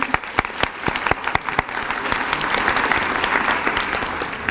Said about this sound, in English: round of applause for Kate Toney